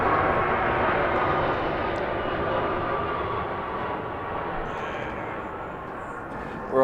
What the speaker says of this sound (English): A plane coming in to pick you up.